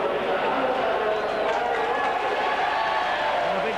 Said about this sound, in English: And a big cheer goes up from this Bradford crowd.